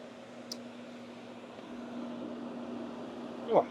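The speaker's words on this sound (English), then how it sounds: "what you're hearing is actually a fan down here because they were working on it" A steady electric fan hum and whir runs throughout at a constant low level inside an unfinished new-build house, with a brief click near the start and a thump at the end.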